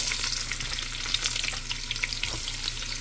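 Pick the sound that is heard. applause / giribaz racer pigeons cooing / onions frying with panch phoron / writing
onions frying with panch phoron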